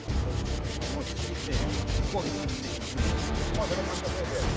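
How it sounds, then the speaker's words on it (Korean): Steady rhythmic wet sanding strokes rubbing over old reclaimed pine wood, close and continuous, a gritty scraping back and forth with no talking. "일반적인 사포질로는 때가 벗겨지지 않을 경우 물로 닦아가며 사포질을 해야 한다"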